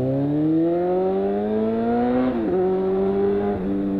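Honda Hornet carbureted motorcycle engine with an aftermarket Atalla exhaust, revving steadily upward then dipping twice, loud and close with a droning harmonic tone and no talk.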